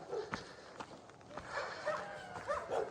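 A dog barks a few times at a distance, with scattered yips and soft outdoor noise in between.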